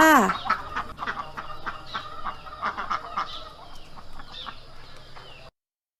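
A duck gives a rapid series of nasal quacking calls, loud and close at first and then repeating in short bursts before stopping abruptly.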